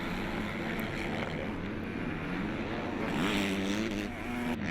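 Motocross bikes, a Suzuki among them, roar into the first turn of an MX Elite race at Castelnau-de-Lévis, with continuous engine howl and rising revs from a pack of machines at mid distance.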